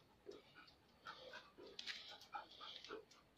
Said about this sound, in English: It's my dog there.